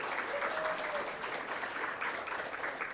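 An audience at a writers festival event for International Women's Day applauds, a dense, steady burst of clapping from many hands that fills the whole moment without letting up.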